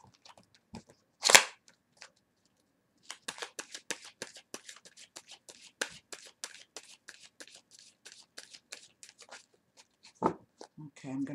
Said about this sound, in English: good shuffle and one last rifle, and then I'm going to lay the cards.